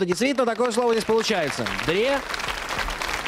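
Studio audience applause on the Russian TV quiz show Zvyozdny Chas, swelling as a broad wash in the second half of the clip after someone speaks clearly over the start.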